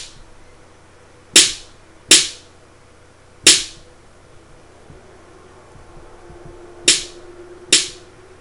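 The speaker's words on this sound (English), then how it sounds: "this is an 808 snare. I got it straight off of Roland's website" Roland TR-808 snare drum sample hits, five sharp dry cracks at irregular spacing, each decaying quickly into near silence, played alone with no voices.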